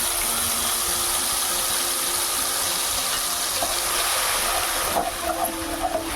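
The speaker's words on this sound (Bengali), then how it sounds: "মিশ্রণটি আমি এখন তেলের মধ্যে দিয়ে দেবো।" A turmeric and Kashmiri chilli paste mixed with water hits hot oil in a pan while cooking shorshe ilish, producing a continuous loud sizzling hiss that runs steadily throughout.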